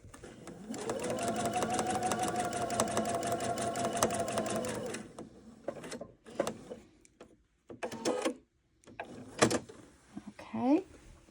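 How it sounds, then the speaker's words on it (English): A sewing machine stitches a seam for mitered corners, a fast steady mechanical whirr of needle strokes lasting about four seconds, then stops; short clicks, fabric handling and a few brief bursts of stitching follow. "I will sew right to the edge of my seam here"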